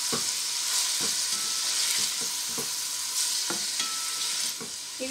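Prawns frying with garlic in a hot pan for prawn fried rice, a steady close sizzle broken by regular scraping stirs of the spatula, loud throughout with no talk.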